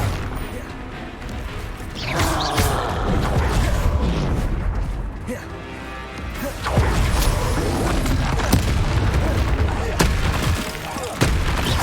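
Bombarda explosion spell cast in Hogwarts Legacy during a dragon battle, heavy booming blasts and crashing rumbles swelling and fading in waves, loud and close, with voices in the background.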